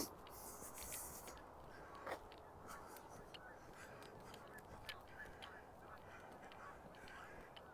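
Distant goose honks from geese in flight call out a few times over a steady outdoor wind and water hum by a lake, faint and scattered.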